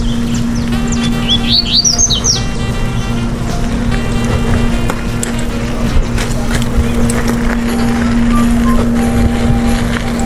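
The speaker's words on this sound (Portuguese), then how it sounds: "Passarinho cantando." A small bird lets out a quick burst of bright chirps early on, fairly clear, above a constant low motor drone along a neighbourhood street in Senador Vasconcelos.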